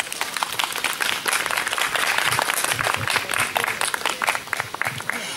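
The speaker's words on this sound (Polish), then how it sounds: "Wielkie brawa, że zdążył przyjechać tak daleka i że jest wśród nas." Audience applause welcoming a guest speaker at a lecture during the Harmonia Kosmosu 2016 gathering, with dense, sustained clapping from a hall crowd throughout.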